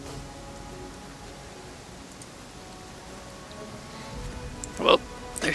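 Soft steady rain falls in Pathfinder Kingmaker, a faint wash of patter throughout, with a few brief louder bursts near the end.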